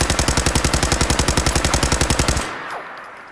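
A modified pipe pistol fired as a machine gun in Fallout 4, a loud rapid burst of about twenty-five evenly spaced shots over two and a half seconds, then cut off into a fading echoing tail.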